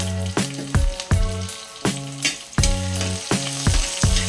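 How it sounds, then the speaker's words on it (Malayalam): Curry leaves and masala sizzling in hot oil in a pan, with steady frying crackle and rhythmic stirring scrapes roughly every half second, close and clear. "ഈ മസാല വറുക്കുമ്പോൾ നല്ല മണമാണ്"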